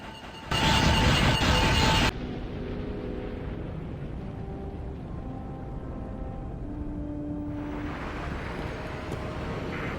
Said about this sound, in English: we have to drive a speeder bike